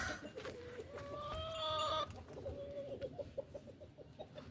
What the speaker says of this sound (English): I've got to go feed Honey and throw some corn down for these birds.